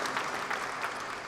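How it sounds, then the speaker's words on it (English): Audience applause for performers at a 50th Black April anniversary commemoration held by a Vietnamese American community group, a short steady burst of clapping from a crowd at moderate level. "Would you join me in giving a quick round of applause to everyone who performed earlier?"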